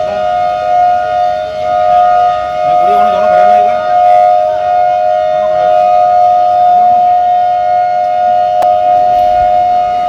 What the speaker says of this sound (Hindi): जैसा कि आपने सुना कि सायरन फिर बज रहा था